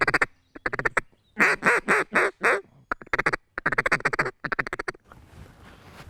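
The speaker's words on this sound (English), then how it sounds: "sometimes I'll add a feeding chuckle with a regular call" A handheld duck call alternates between drawn-out regular quacks and rapid feeding-chuckle bursts, loud and close, with short pauses between series and no talking.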